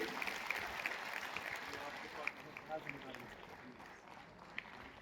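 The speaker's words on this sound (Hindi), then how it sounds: "जोरदार तालियों से स्वागत कीजिए।" Applause at a school election results ceremony welcoming the newly chosen head boy, a moderate clatter of hands from an audience, somewhat distant, with voices talking over it.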